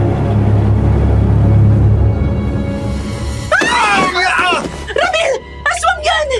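Two voices scream in horror in a dramatized Filipino aswang tale, sudden loud overlapping shrieks following a low rumbling stretch, with further sharp cries and shouted speech.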